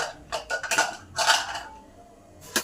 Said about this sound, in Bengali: এবার ঢাকাটা খুলে দেখি ডালটা কেমন সেদ্ধ হয়েছে।